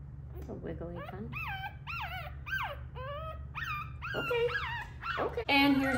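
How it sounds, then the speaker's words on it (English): Young puppy whimpering and yipping in a rising, plaintive series of cries, close and fairly loud, with a low steady hum underneath and a sharper yelp near the end. "Here's the green collar puppy from the Mick and Pink litter."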